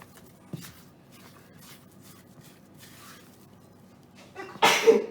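A single loud sneeze bursts out near the end after a stretch of quiet rustling and faint shuffling in a school kitchen during cookie baking.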